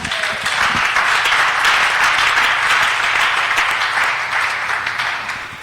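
A church congregation breaks into sustained, loud applause, a dense steady wash of many hands clapping together without a break.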